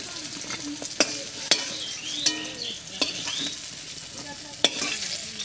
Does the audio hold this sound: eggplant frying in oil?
yes